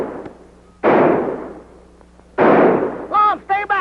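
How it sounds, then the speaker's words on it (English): Two loud gunshots ring out a second and a half apart, each decaying with a rolling echo, followed by someone shouting. "Tell them to keep shooting, Abner."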